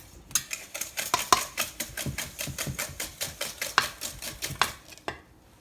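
Cheesecake batter with a splash of vanilla is beaten in a mixing bowl, giving a steady, fast run of close clinks and scrapes against the bowl that stops abruptly near the end.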